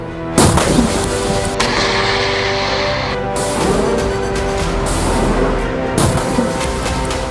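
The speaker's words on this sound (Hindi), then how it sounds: "हिजबुल्लाह एक के बाद एक कई मिसाइल फायर करता है।" Hezbollah missiles fired one after another in October 2023 wartime strikes, heard as several loud booming launches with sharp onsets, each followed by a rumbling roar, spaced a few seconds apart with no voices.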